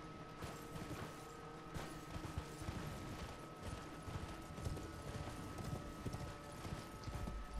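Hooves of a horse in the Elden Ring video game clip-clop in a steady, continuous trot, fairly quiet and alone, with faint creaking and mechanical rattles underneath.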